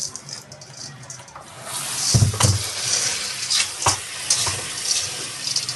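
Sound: washing lentils (dal) in water

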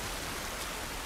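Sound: rain in The Last of Us Part I video game

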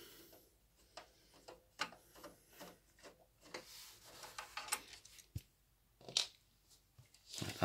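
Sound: Phillips screwdriver unscrewing a sound card

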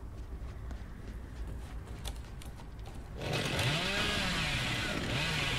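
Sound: chainsaw from the video game Dead by Daylight

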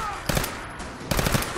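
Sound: gunfire in the video game Fallout 4

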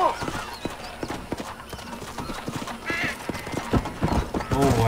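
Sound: horse hooves in the video game Red Dead Redemption

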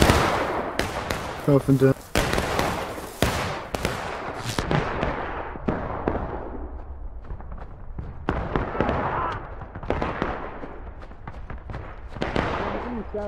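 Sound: musket volley fire in the video game War of Rights

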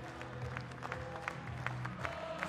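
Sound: Hapoel Jerusalem fans cheering at basketball game

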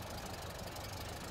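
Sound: car engine misfiring

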